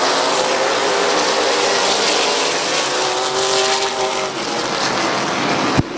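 Race cars roar together at Midvale Speedway as the field accelerates on a green-flag restart, a dense, steady engine drone with rising harmonic whine, ending in a brief sharp bang near the close.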